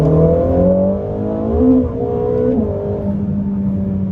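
Ferrari SF90 Stradale on a race track, a loud sustained engine drone heard from inside the car, pitch sliding up and down with throttle changes, no talking.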